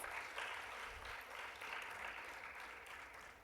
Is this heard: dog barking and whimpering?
no